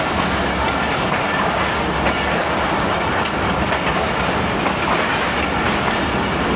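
Pakistan Railways 13UP Awam Express running between Lahore and Peshawar, a steady loud rumble with continuous clickety-clack of wheels over rail joints, heard close from on board with no talk.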